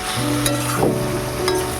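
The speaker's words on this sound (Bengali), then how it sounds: "এবার আমি একটু হলুদ দেবো কারণ একটু হলুদটা কম হয়েছে দিয়ে নাড়াচাড়া করতে থাকবো" Water lily stems with turmeric sizzle in a frying pan while a utensil stirs them, with a few scraping strokes over a steady close hiss.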